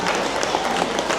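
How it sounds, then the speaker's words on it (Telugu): A crowd at a Telugu Sankranti celebration in Malaysia claps loudly and steadily, a dense wash of applause with a few voices mixed in. "ఒకసారి గట్టిగా చప్పట్లు కొడితే."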